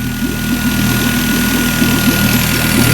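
A Yamaha 15HP four-stroke outboard engine runs steadily with a fast, even mechanical chug and vibration at a constant, close, loud level, with no voices.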